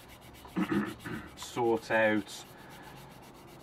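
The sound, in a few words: sanding a 1/48 scale model with medium grit sanding stick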